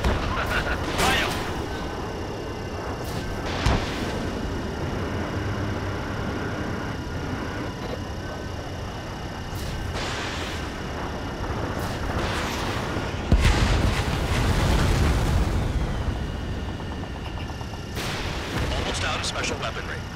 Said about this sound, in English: Anti-air fire!